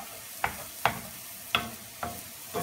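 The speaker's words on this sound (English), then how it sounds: "Instead, it's simmer frying in water." Food simmer-fries in water in a large frying pan, with a soft sizzle under a series of five evenly spaced stirring scrapes.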